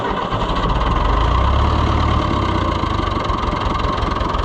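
A David Brown 990 diesel tractor engine, badged as an Oliver 600 high crop, running steadily close by with a loud low rumbling chug and even knocking pulse throughout, no voices.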